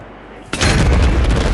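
A sudden explosion in the Minecraft video game bursts in after a brief quiet moment, then continues as a loud, dense rumbling roar.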